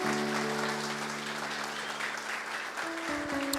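Churchgoers applaud for Jesus in steady, continuous clapping, fairly loud and close, with a sustained organ or keyboard tone underneath that shifts pitch near the end.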